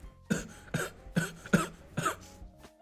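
Five short, sharp coughs come close and clear in an uneven rhythm, each a dry burst with quiet gaps between them and no talk.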